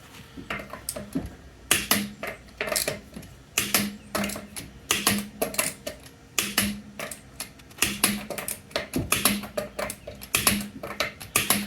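Lug nuts on a 2012 Chevy Cruze wheel are tightened with a torque wrench to 100 foot-pounds, making sharp, close ratcheting clicks in quick repeated bursts with short pauses between them.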